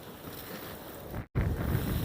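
Wind gusts buffeting the microphone outdoors at an old church site, a steady loud roar that breaks off for an instant, then returns.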